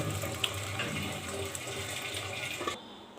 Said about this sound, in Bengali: এখন আমি ঢেলে নিব।